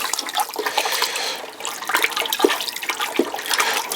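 Pottery glaze sloshes and swirls in a bucket as it is stirred, a steady watery churning with a few louder surges, close by and with no voices.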